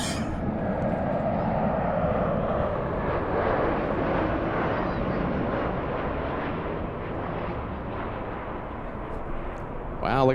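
MD-87 firefighting aircraft flying over a wildfire, heard as a continuous loud roar and rumble of engines that stays steady for the whole stretch, with no clear talk over it.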